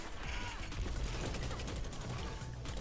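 A Seventh Seraph Carbine auto rifle fires in Destiny 2. Dense, continuous automatic fire runs loud and steady for about three seconds with rapid overlapping reports.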